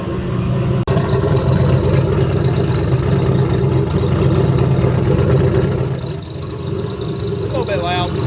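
A turbocharged LS engine in a G-body car idles with a loud, steady, close rumble that holds evenly throughout and eases slightly near the end.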